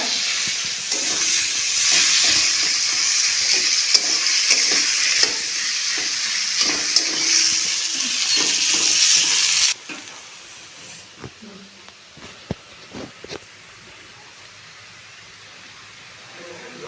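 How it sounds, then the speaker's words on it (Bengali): Onions frying in a pan, a loud close hissing sizzle with repeated spatula scrapes and taps for about ten seconds, then the sizzle drops away to quieter clatter and occasional knocks. "পেঁয়াজগুলো লাল লাল করে ভেজে নেব বন্ধুরা।"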